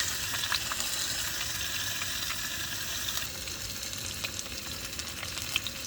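Meat frying skin side down in a pan inside a camper van, giving a steady, soft, continuous sizzle with faint crackles throughout, heard alone.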